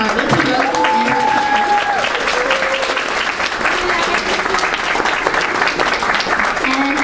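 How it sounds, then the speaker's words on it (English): Audience applause at a rose ceremony, steady dense clapping that carries loud and unbroken throughout, with faint tonal sounds and murmurs mixed in beneath. "let's give another round of applause for our Alyssa Roses"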